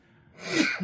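A single quick sneeze from a woman, starting with a short intake of breath and bursting out close and loud before trailing off.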